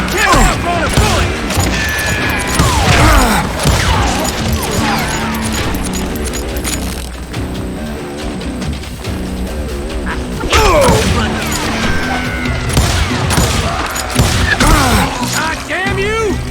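Gunfire in the Western shooter Call of Juarez: Gunslinger, loud bursts of shots and impacts with mechanical clatter, mixed with shouting game voices and music across the whole stretch.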